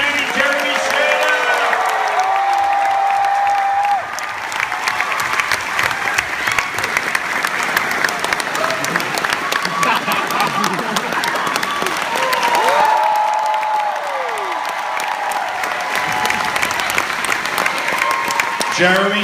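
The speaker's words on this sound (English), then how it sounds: "Folks, big round of applause. Tom Kenny, Jeremy Shada." A crowd applauding at a Fan Expo voice artist panel, loud sustained clapping that swells and fades, with a presenter's voice over it.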